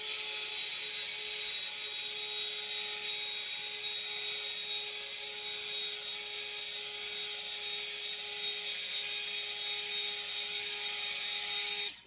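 Greenworks handheld leaf blower running steadily while blowing grass clippings outdoors, a loud continuous whirring whine with a fixed high pitch that holds for about twelve seconds before cutting off abruptly.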